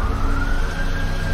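A police siren wails steadily in a Halloween fan-made video game, a continuous loud electronic tone held over rumbling game background noise, with no talking.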